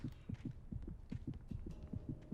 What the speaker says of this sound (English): I can hear my heartbeat.